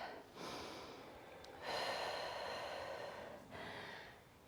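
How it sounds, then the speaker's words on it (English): Deep breaths drawn in and let out at the close of a challenging advanced balance exercise, heard as several long, close, breathy rushes of air with brief pauses between them, no talking. "Last breath."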